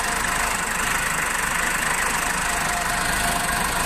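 A Case 4390 diesel engine in a backhoe loader runs steadily after an overhaul, a continuous loud close idle with a dense rumbling texture and no pauses.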